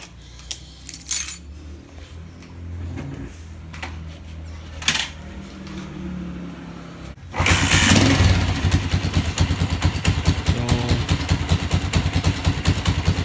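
A motorcycle during an oil change: a few metallic clinks and handling noises come first, then the engine catches and settles into a steady, close, rapid idle with no talking.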